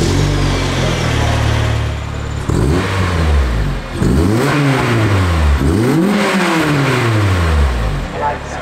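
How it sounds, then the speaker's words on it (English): A car engine fires up and settles, then the exhaust is revved hard in several rising-and-falling bursts, loud and close with no talk. "I wanted to hear the exhaust."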